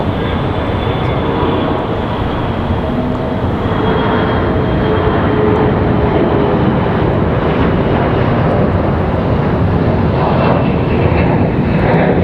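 CRJ regional jet taking off with an early rotation, its engines giving a loud, sustained roar with a faint whine that stays near and steady.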